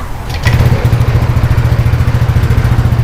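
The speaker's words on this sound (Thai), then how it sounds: "สตาร์ทเครื่องทิ้งเอาไว้ โดย ไม่บิดเร่งเครื่องยนต์นะคะ" A Honda motorcycle engine idles after Honda engine cleaner is added, with no throttle. After a brief start it settles into a loud, close, steady rhythmic chug.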